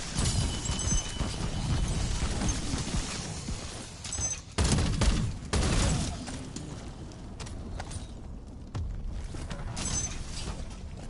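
Bursts of automatic weapon fire in Call of Duty Black Ops 7 Zombies, rapid crackling volleys with short gaps and sharp transient cracks, fairly quiet overall and no voices.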